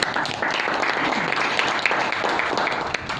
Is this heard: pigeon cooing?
no